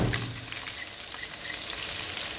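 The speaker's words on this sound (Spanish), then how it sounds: "Vamos a calentar otras tortillas" Tortillas heat in a hot pan for pozole and golden taquitos, giving a steady, close sizzling hiss with faint crackle throughout and no talk.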